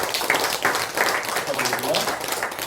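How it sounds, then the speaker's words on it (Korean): A church congregation at a Korean Methodist Sunday service applauds an award presentation; scattered clapping runs beneath a voice talking over it throughout. "우리 큰 박수 하겠습니다."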